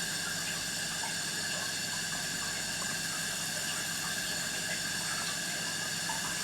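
Doritos-coated strips frying in very hot oil, a constant dense sizzle and hiss that stays loud and even with no pauses.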